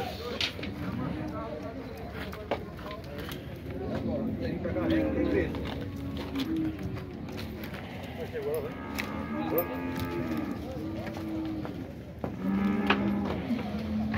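Dairy cows lowing at a cattle fair in Dois Riachos, Alagoas, with several drawn-out moos rising and falling over about fourteen seconds, under continuous nearby talk and crowd chatter.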